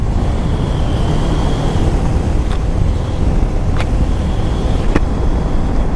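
A vehicle pulls hard in first gear, a loud, sustained broadband roar with a whining tone, passing by close with a few sharp ticks over the engine noise.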